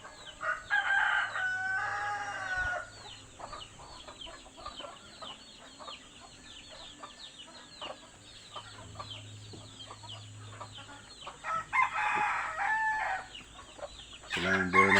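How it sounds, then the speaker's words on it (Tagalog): Roosters crow loudly at the start and again near the end, with softer native chicken clucks and other farmyard birds calling in between on a farm. "Yan, yung mga manok,"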